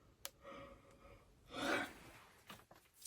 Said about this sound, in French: Si moi je baille.